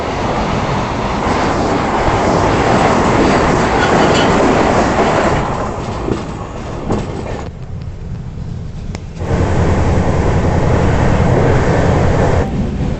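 Andhra Pradesh Express rolling along at night, a loud, steady rumble of wheels and carriage with clattering track noise, briefly dropping quieter midway before the heavy running sound returns.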